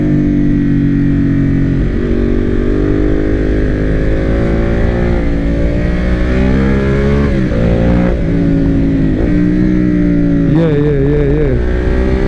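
A Ducati Monster 821 Testastretta motorcycle engine runs loud and close at a low, rumbling idle, lifts in a few small blips, then revs in a quick rising and falling burst near the end.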